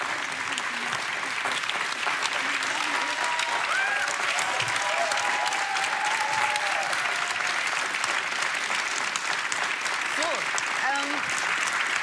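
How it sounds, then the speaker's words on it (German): A studio audience at a late-night talk show applauds for a climate activist guest, a dense, continuous wall of clapping that holds steady throughout, with faint voices and cheers mixed under it. "Macht einen großen Applaus für Luisa Neubauer!"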